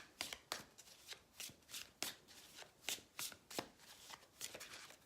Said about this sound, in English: just gonna do a little more shuffling